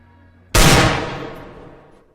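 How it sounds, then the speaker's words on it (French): A single loud gunshot sound effect punctuating a Walking Dead tabletop role-play session, a sharp sudden blast after a brief quiet start, followed by a long reverberant decay that fades away gradually. "Le coup de feu retentit dans la plaine."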